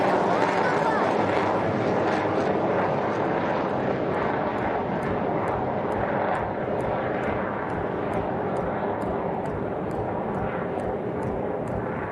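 A fixed-wing aircraft makes a slow pass at about 120 knots during the Aero India 2021 air show at an air force station. Its engine drones broadly and steadily throughout, steady and fairly loud, with a public-address voice talking over it.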